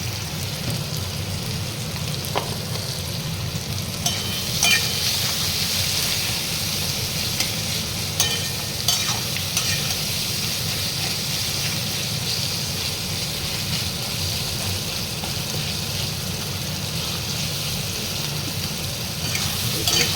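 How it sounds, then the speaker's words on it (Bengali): Chilli chicken and vegetables stir-frying in a pan, a steady hissing sizzle like light rain that runs unbroken and close, with a few faint scrapes and taps of stirring. "এর মধ্যে এবার আমি একে একে আর একটু ভাজবো, যাতে সবজিগুলো একটু ক্রাঞ্চি ভাবটা থাকে"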